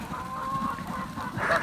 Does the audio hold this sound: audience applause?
no